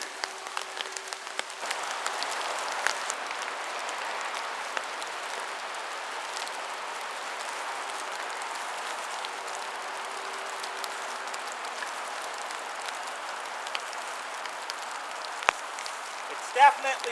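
Rain falling on a waterproof bivy outdoors, a constant dense patter of drops on fabric, steady and moderately loud, with a few louder taps near the end.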